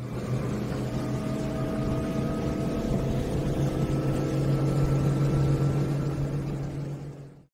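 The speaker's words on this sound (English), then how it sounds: "Rescue boat." A steady rescue boat engine hum with a low buzzing tone and faint whine, constant and fairly near, fading out at the end.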